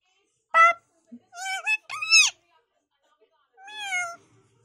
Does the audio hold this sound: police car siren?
no